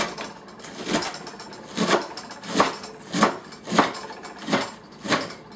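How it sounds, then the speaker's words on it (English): A kitchen knife chops cabbage finely for coleslaw on a cutting board, about nine crisp, evenly spaced thuds at a steady rhythm, close and moderately quiet, with no voices. "Now he's going to chop it a little more finely so that we can make sure that we aren't choking on pieces of cabbage."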